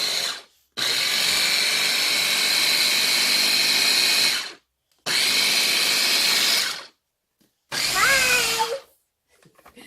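A Ninja blender whirs through keto fruit muffin batter in three bursts, a loud steady motor roar starting and stopping, the last burst shorter with a shifting pitch.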